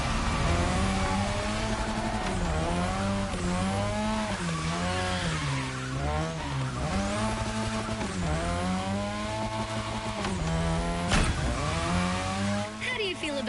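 Modded Mazda RX-7 in The Crew racing game, engine revving and rising through gears with repeated climbs and drops in pitch, tire squeal at times, a voice talking over it.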